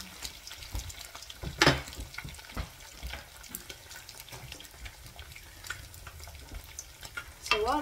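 Eggs frying in a pan on a home stove, a soft steady sizzle with occasional clicks and scrapes, fairly quiet and without talk.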